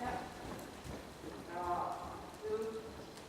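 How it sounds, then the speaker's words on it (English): A horse canters around a riding arena corner, its rhythmic hoofbeats thudding in repeating three-beat strides, moderately close, while a person talks over them. "that's the canter here in the corner"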